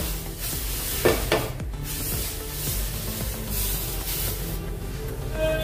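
Water splashed onto a hot tawa before making suji uttapam, a sharp burst of sizzling hiss followed by scraping and wiping sounds, close and fairly quiet.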